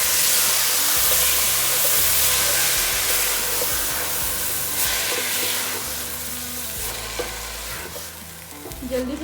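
Lentils (mash dal) tipped into hot oil with golden-brown fried onion tempering, a loud steady sizzle with stirring and scraping in the pan, no talk.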